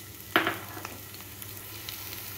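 Cumin and onion pieces hit hot oil in a kadai on the stove, a brief loud burst of sizzle followed by a quieter steady frying hiss.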